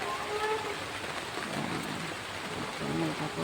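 Rain falling outdoors on a rainy evening, a steady even hiss throughout at moderate distance, with faint tonal background sounds.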